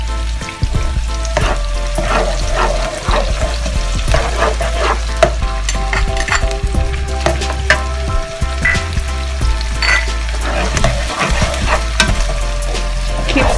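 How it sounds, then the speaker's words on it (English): Chili and ground spice paste sizzling and frying in a pan for a Malaysian vegetable curry, with steady crackling and intermittent scrapes of stirring throughout, close and fairly loud with no talk. "put in the chili and the ground ingredients"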